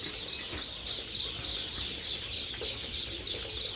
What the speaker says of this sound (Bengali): আমার এখানে হাঁসের বাচ্চা হচ্ছে 500।